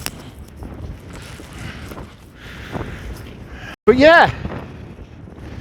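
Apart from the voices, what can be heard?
strong wind blowing while out on the water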